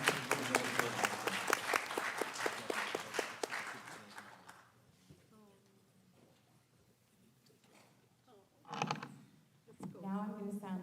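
An audience at a board of education meeting gives a round of applause that is loud and steady for about four seconds and then trails off into scattered claps. Quiet room noise and brief talking follow.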